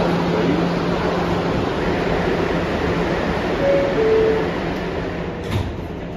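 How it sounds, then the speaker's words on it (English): An R211T subway train running as a Manhattan-bound C local: a steady, loud rumble of the moving car with a faint tonal whine and a brief clunk near the end, with no voices. "Now this train, the R211T"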